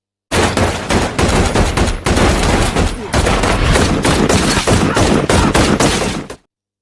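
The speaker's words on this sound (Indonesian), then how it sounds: "baku tembak antara penjaga keamanan dan polisi tidak dapat dihindari" A shootout between security guards and police erupts in loud, continuous bursts of automatic gunfire, with rapid overlapping shots and brief gaps before cutting off abruptly.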